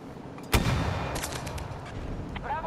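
A single loud gunshot cracks in a Battlefield 2042 match, followed by a burst of rapid shots and a faint metallic ring.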